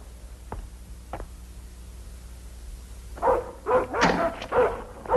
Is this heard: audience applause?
no